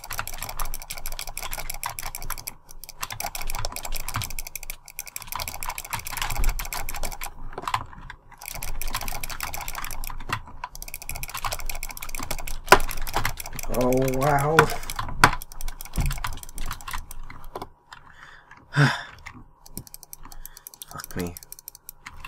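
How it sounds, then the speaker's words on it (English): Rapid clicking of a computer mouse and keyboard during Minecraft PvP, dense bursts of sharp close clicks that come and go over the whole stretch, with a person talking over them at times. "Sorry for the mouse clicking, guys."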